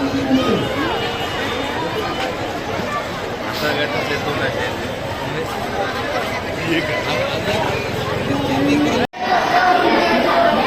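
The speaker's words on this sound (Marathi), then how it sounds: "रेकॉर्ड ब्रेक गर्दी आली आहे पाहू शकता." A huge, dense crowd chatters near a railway station during a Mahaparinirvan Din gathering in Mumbai, a continuous roar of overlapping voices and footsteps close around, with a brief dropout near the end.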